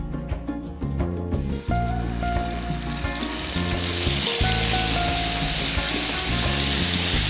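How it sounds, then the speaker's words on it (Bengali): Marinated chicken legs dropped into hot oil for tengri kabab: after a few clinks and a brief stir, a loud, steady sizzle builds and holds close and continuous, with no talking. "আমাদের তেলটা গরম হয়ে গেছে। এখন আমরা ম্যারিনেট করা চিকেনটা দিয়ে দিব।"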